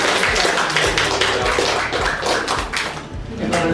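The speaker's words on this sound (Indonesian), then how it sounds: "tepuk tangan juga." A group of students applauds at an internship session, with dense, steady clapping filling the space and voices mixed in.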